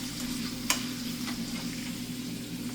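Bacon frying in a cast iron pan gives a steady, soft hiss and crackle under a low hum, with one sharp pop near the start, close by and without talk.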